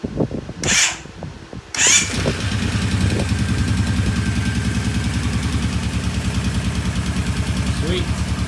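Kawasaki Brute Force 750 ATV engine, freshly rebuilt, cranks with a couple of brief tries, then catches and settles into a steady, loud, close idle with a fast even pulse that runs to the end, alongside a voice.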